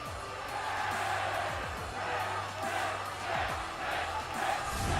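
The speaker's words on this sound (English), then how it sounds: "As you hear the crowd chanting 10 as the perfect 10 steps foot once again here in Full Sail University." Video game crowd noise in WWE 2K18 at Full Sail University, a rhythmic swelling chant from the arena audience rising and falling in regular pulses, moderately loud with no speech.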